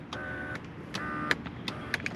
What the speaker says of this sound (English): Power seats. Which do work. Not quiet, but they work.